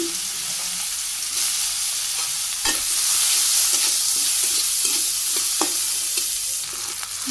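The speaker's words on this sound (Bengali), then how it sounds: "হালকা একটু ভাজি করে নিলাম পেঁয়াজ" Onions frying in hot oil in a wok alongside cumin and spices, a steady close sizzle with occasional stirring clinks and scrapes throughout.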